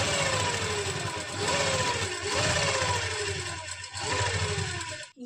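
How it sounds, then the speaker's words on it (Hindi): A sewing machine runs steadily while stitching the seams of a lined kameez suit, a loud continuous whir with brief speed dips and slowdowns before stopping at the end. "इसी तरह से हम दूसरी साइड भी इन कट्स को मिलाते हुए फिटिंग की सिलाई लगा"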